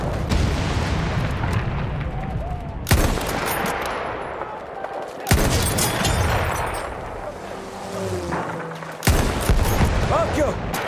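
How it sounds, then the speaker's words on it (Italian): Loud battlefield gunfire and booming blasts from Battlefield 1 Conquest multiplayer, with bursts of machine-gun fire, heavy explosions and shouting voices in a dense, chaotic mix. "Attenzione, mitragliatrice!"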